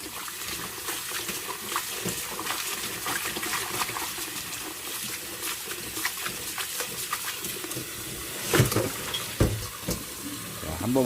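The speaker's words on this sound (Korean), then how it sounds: "이렇게 해서 잘 헹궈 주시면 돼요" Running tap water splashes over cooked buckwheat noodles being rinsed in a sink, a steady close wash with a few louder splashes and handling noises near the end.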